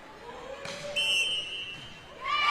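A referee's whistle at a high school volleyball match, one sharp sustained tone in a gym, under quiet crowd murmur and faint court noise.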